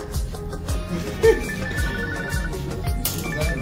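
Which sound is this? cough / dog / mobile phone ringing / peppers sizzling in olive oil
mobile phone ringing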